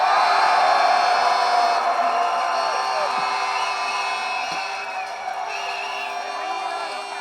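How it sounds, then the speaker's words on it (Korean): A crowd at an outdoor protest rally in Incheon cheers and shouts together in a sustained roar that slowly fades, loud and continuous with overlapping voices. "여러분의 간절한 마음을 모아 다시 한번 뜨거운 함성을 부탁드립니다."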